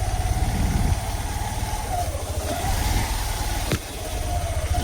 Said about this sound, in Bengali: এখন আমরা বেরিয়ে যাচ্ছি বাইক নিয়ে